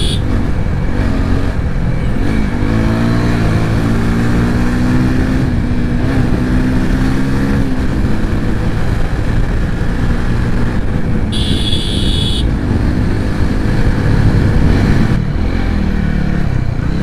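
A TVS Apache 200 motorcycle is ridden on the road, its engine droning loud and close with steady revving and gear-linked pitch shifts throughout, the wind rushing past.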